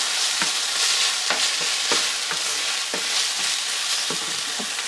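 Sloppy joe mixture is stirred in a frying pan over lowered heat for a Philly cheese steak version, with a steady sizzle under repeated scraping strokes of the spoon about once a second, close by and alone.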